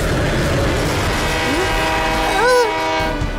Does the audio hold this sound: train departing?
yes